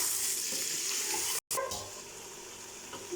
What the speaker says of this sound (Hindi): अब इसको हमने 10-15 मिनट भूनना अच्छी तरह।